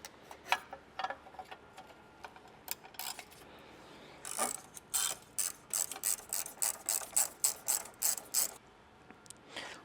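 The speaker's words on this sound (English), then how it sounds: "we got the nut and the bolt both tightened down" A socket ratchet tightens a bolt and nut on a switch panel bracket in a 2022+ Toyota Tundra, starting with a few scattered clicks and then settling into quick, close, regular bursts of ratcheting.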